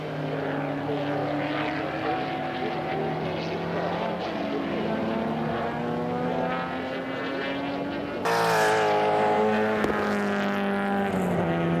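Production-class race cars at a circuit in Western Australia roar past, several engines droning together loudly with shifting pitch as they head into a turn, and a sudden louder surge near the end.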